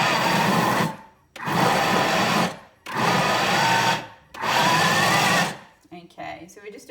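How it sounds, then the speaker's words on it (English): Blender motor whirs in four short pulses, about a second each with brief pauses between, then a quieter rattle at the end. "if you have a pulse function on your blender"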